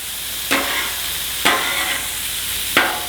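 Peas being slid across a hot griddle with a spatula for shrimp fried rice: a steady sizzle broken by three distinct scraping strokes spaced about a second apart, close and clear with no talking.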